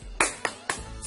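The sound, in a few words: rhythmic spirit clapping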